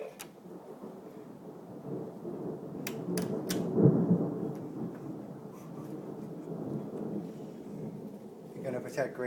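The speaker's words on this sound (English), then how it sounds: "It's thundering and raining." Faint low rumbling thunder rolls with a soft rain hiss, swelling once midway, while someone talks nearby.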